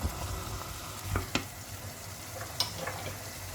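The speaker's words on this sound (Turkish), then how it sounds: "Ve karıştırıyorum güzelce malzemeleri." Carrots and potatoes being stirred in a pot with tomato paste and bone broth, a soft sizzle underneath with a few light clicks of the spoon against the pot, close and fairly quiet.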